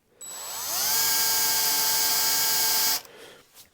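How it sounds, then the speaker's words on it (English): A high-pitched power drill whines steadily for a few seconds, drilling inlay holes into a wooden Telecaster guitar fretboard, spinning up and then cutting off abruptly, close and loud. "kind of gently drilling down so you're just a little bit short of the thickness of the inlay"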